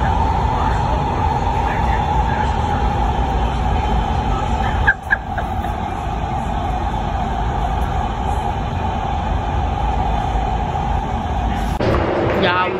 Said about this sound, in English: first time on LA trains.